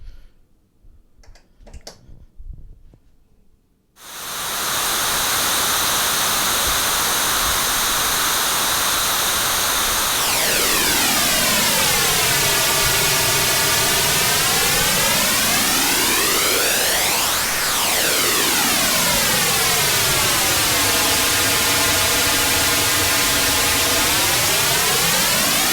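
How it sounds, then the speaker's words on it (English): Steady white noise runs through a Son of Storm Tide flanger module, loud and continuous, with a sweeping comb-filter whoosh that rises and falls in slow arcs after a short quiet start. "So we'll start with some just white noise."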